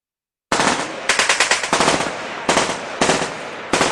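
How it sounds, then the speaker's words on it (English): Loud bursts of gunfire, rapid strings of shots followed by single and double reports, close and sharp after a moment of silence. "We got gunshots out here."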